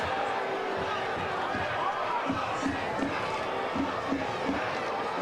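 Soccer stadium crowd at the final whistle of a Detroit City FC versus Loudoun United FC match, a dense, distant roar of cheering and chatter with thumping beats, under commentary.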